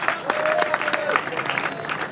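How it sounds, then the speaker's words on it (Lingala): A crowd at a political gathering applauding and cheering for the head of state, with dense clapping and a few whistles and shouts, close and continuous for a couple of seconds. "acclamer encore pour le chef de l'État."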